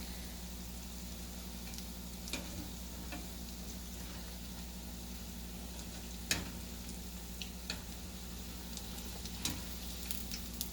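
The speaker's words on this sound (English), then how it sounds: "you can fry even 3 or 4 together, but just make sure that they are not really turning dark brown" Vada frying in hot oil, a faint steady sizzle with occasional small pops and crackles, with no voices.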